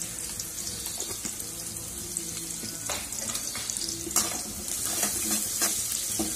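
Onions with salt sautéing in a pan for ivy gourd stir-fry, a low sizzle with scattered stirring taps, mixed with running water from a tap close by.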